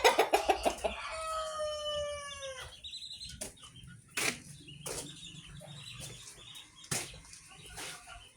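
Chickens on a small farm: a rooster crows loudly near the start, followed by scattered clucking and wing flaps at moderate distance, with no talking.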